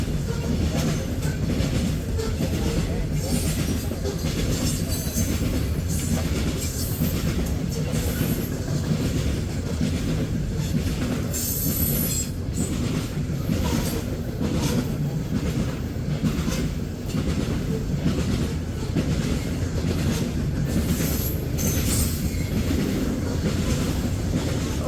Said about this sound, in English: I see the coal train coming to an end up here.